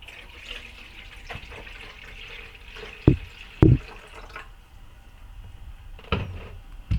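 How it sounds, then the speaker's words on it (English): Liquid nutrients poured into an AeroGarden reservoir: a soft trickle with a few sharp splashing knocks, likely the lid being moved, heard close in a quiet room. "I just move the lid and just pour it in"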